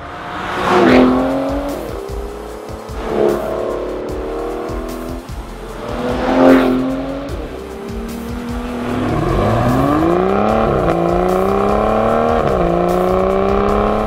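An Aston Martin Vanquish supercar driven hard along a twisty British B road, the engine loud and close, revving up and down in repeated surges through the corners with sustained high-revving howl toward the end.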